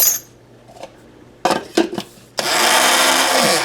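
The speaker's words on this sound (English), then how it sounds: "we're not really grinding, we're just basically mixing" A spice grinder mixing hickory smoked paprika, cayenne and garlic, with a few loud clacks as the lid is handled, then a steady, close, high-pitched motor whir.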